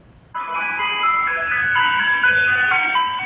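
A tinkling ice cream truck jingle plays loudly and continuously, its bright electronic melody starting suddenly and carrying on without voices.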